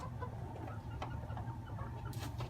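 Soft, scattered clucks from pullet chickens in a coop, low and fairly faint against a steady background rumble, with a brighter chirp-like burst near the end.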